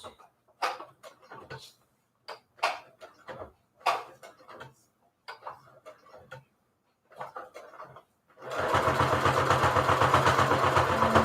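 A sewing machine stitching through thick Peltex 72F interfacing and several fabric layers starts up after a stretch of intermittent handling clicks and fabric rustles, then runs in a steady, loud, close mechanical whir to the end.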